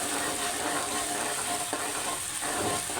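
Green chili paste sizzles steadily in hot oil in a pan while cooking a fish curry, a continuous loud hiss and crackle at close range with no talking.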